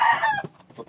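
A chicken gives a short, close cluck that trails off into a few quieter clucking notes.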